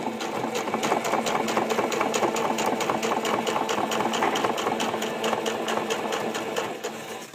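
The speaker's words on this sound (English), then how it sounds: "And then keep sewing around the edge." A sewing machine runs steadily, stitching elastic into the edge of a pocket cloth diaper with a fast, even rhythmic whirr of needle strokes throughout, close and loud with no talking.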